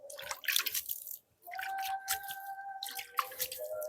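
Water is poured onto a newly planted tomato seedling in compost, giving soft trickles and drips in short bursts with a brief pause. The sound is close and fairly quiet, with no talk.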